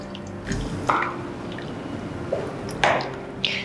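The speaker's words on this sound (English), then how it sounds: "I'm going to pour some of the curry in there" Nyonya asam fish curry poured into a serving dish gives a few soft, wet splats and drips, brief and quiet against a faint background hum.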